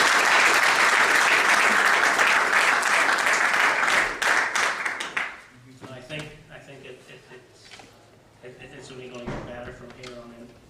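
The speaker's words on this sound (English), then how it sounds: "I think Roderick deserves a clap." Audience applause at a Green Party Northern Ireland AGM: dense, loud clapping from a crowd for about five seconds, then fading into scattered claps and murmuring talk.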